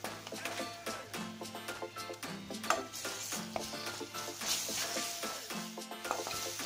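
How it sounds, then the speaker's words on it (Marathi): Whole spices and ginger garlic paste sautéing in a pan for veg biryani, giving a soft, steady sizzle with repeated stirring and scraping against the metal, and faint background music. "साधारण एक मिनिटभर आपल्याला परतून घ्यायचंय आणि मग आपण याच्यामध्ये जिंजर गार्लिक पेस्ट घालणार आहोत"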